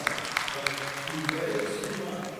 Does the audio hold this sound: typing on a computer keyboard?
no